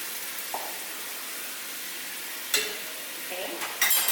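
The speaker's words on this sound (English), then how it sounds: "And then you just stir it." A flour-thickened mixture for tamales simmers in a pan with a soft, steady frying hiss, broken by a few brief scraping clatters of a spoon stirring near the end.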